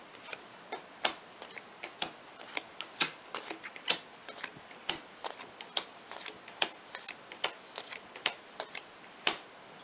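Playing cards for a board game being shuffled and dealt, heard as a steady run of sharp, quiet clicks and flicks at close range, with no talking.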